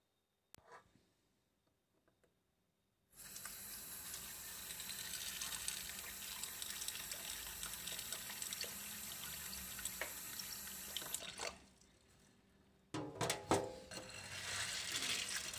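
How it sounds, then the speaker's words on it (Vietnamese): Soaked black beans being rinsed under running water: a steady tap gush runs for about eight seconds, pauses, then resumes with splashing and clattering in the sink, with no talk. "hạt đậu là mình phải vo cho sạch"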